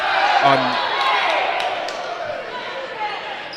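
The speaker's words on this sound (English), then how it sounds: "commotion from the crowd" Crowd commotion fills a high school girls' varsity basketball gym, a broad murmur with a few shouts and a ball bounce or two near the start, while a commentator talks throughout.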